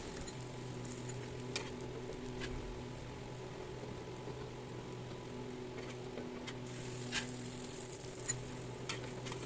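Medium-sized parottas cook on a hot pan with a steady, gentle sizzle and occasional soft crackles and scrapes, no voices present.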